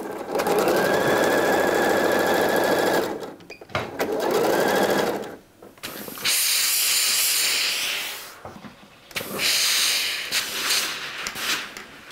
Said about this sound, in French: Et on pique les deux côtés à 1 cm du bord.